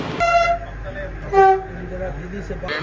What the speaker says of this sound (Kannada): ಬೆಂಗಳೂರು ಮೆಟ್ರೋ ಯೆಲ್ಲೋ ಲೈನ್ನ ಟ್ರಯಲ್ ಇವತ್ತು ಪ್ರಾರಂಭ ಆಗಿದೆ